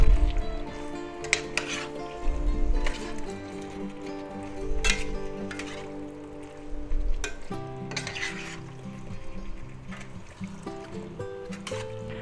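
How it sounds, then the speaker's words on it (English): Sweet and sour pork and vegetable stir fry being stirred in a pan with sauce added, giving soft sizzling and scraping spoon strokes in uneven bursts, close and moderately loud with a tonal hum underneath. "We'll give that a good stir. And we'll put that right in there. And we'll stir that up."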